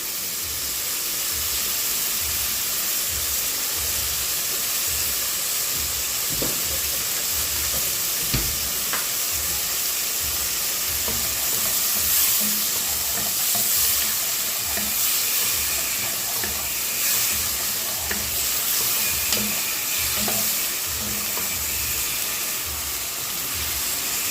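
Chicken sotanghon noodles stir-fried with oyster sauce in a pan, a steady close sizzle and hiss running throughout with occasional scraping clinks of the utensil against the pan.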